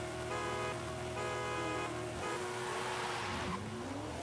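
A car launching in a drag race roars up through harmonic engine revs, the pitch climbing in steps as it pulls away, loud and close with wind rush.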